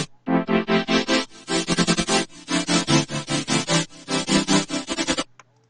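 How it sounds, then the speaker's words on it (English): Bright synth chords from a song drop pulse in a fast, regular rhythm of short stabs, loud and close with no voices, stopping abruptly near the end. "And then when I made like the synths, they sound like this."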